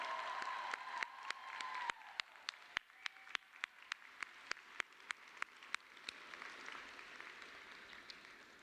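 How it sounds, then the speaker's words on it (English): A large audience at a medical school white coat ceremony claps in a sparse, scattered way, with distinct individual claps over soft room noise, heard from a distance and faint. "have a big round of applause for those of you that have supported you in this journey"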